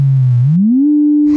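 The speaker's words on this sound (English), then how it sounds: "We just have a sine wave." A pure sine tone from a modular synthesizer, loud and clean, gliding upward in pitch before holding steady, then cut off by a brief noisy burst.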